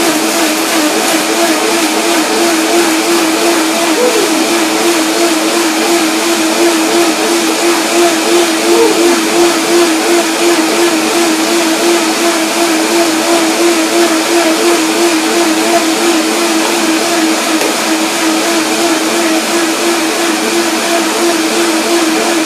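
A blender whirs steadily, blending a raw vegan dressing of sorrel, lemon and unsoaked cashews with water, a loud continuous motor drone with a strong hum, running alone without pauses throughout.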